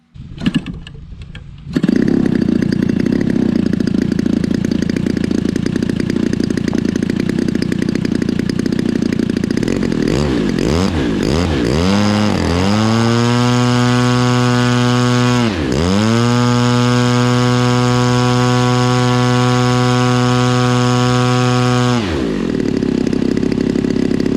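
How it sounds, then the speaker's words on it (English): A Stinger 35 model airplane glow engine buzzes loudly and steadily, briefly revving and dipping in pitch before settling back into a high, even idle, then cutting out at the end. "We got our Stinger 35 in there running and idling."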